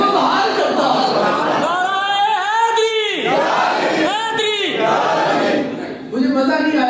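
A crowd at a religious gathering in praise of Ali raises chanted slogans in unison, two loud rising-and-falling bursts over a continuous roar of many voices, with no single speaker in the clip.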